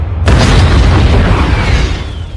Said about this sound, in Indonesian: lalu meledakkan ranjaunya tepat di bebenguk si Yuli hingga membuatnya tewas